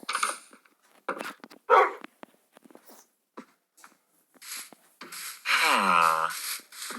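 Dog barking in the Minecraft video game near a dog and cat house: a few short, sharp barks scattered through otherwise quiet gaps, then a louder drawn-out whining yelp close to the end.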